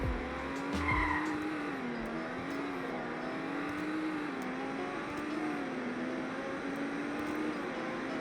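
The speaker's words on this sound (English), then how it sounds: "here is a top speed test in the Supra" Toyota A91 Supra in a Roblox game on a top speed run, a steady synthetic engine drone holding a wavering pitch as it accelerates, with a brief tire skid at the start.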